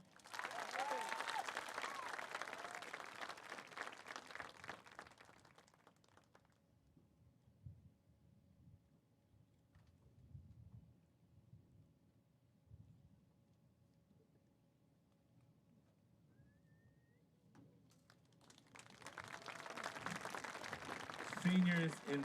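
An audience at a high school senior night applauds the seniors, with sustained clapping from a large crowd filling a hall at the start, a quieter stretch of low murmur in between, and applause rising again at the end.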